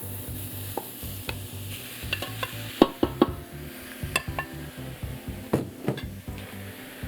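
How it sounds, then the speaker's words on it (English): Browned beef chunks being stirred back into a stew pot, with steady sizzling and frying under scraping and clanking of a utensil against the pot, several sharper knocks standing out near the middle and end; no talk. "Put the beef back in there now that it's all fairly browned."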